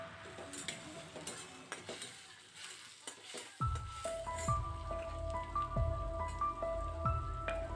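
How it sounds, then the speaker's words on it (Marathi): Onions fry in a pan for butter chicken, with a soft sizzle under clattering stirring at first, then louder, steadier sizzling with repeated scraping and tapping strokes. "आता आपल्या कांद्याला छान प्रकारे लालसर रंग येईपर्यंत आपण यांना तळून घेऊ"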